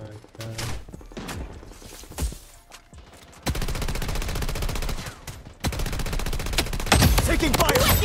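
A KAG-6 rifle firing tracer rounds in a shooter game, sustained rapid automatic bursts that run for several seconds at a time, loud and close, after a few scattered single shots.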